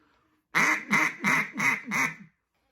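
Five evenly spaced, loud, nasal quacks come from a blown duck call in a steady descending cadence, close and alone, followed by silence.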